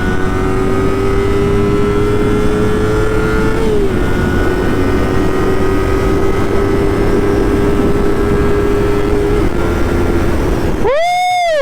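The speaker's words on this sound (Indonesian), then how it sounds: "Mau nyoba top speed motor." A Yamaha MT25 motorcycle runs flat out at top speed, its engine droning steadily under heavy wind roar. The engine note shifts once, and a brief rising and falling whine comes near the end.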